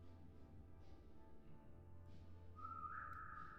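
A person whistles indoors, a faint airy tone that turns into a clear sustained note near the end, heard alone without talk.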